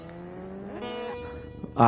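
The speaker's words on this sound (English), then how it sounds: "I'm going to try and just give her a wee bit of revs" Motorbike engine in the TT Isle of Man video game, revving up at a race start, its rising, buzzy tone climbing in pitch over a low idle before a sharper, louder burst at the end.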